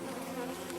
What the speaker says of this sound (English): Still got some angry bees right now